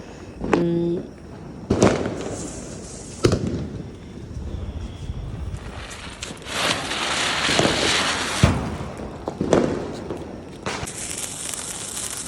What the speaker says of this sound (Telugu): ఇలా క్రాకర్స్ కాల్చడం చాలా బాగా అనిపించిందండి